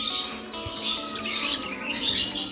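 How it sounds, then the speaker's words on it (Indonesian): Lovebirds, barong and non-clap types, chirp and squawk in a busy, high-pitched chatter close by, with overlapping tweets and shrill calls throughout. "Kalian bisa lihat sendiri perbedaannya dari lovebird clap, non clap maupun lovebird barong"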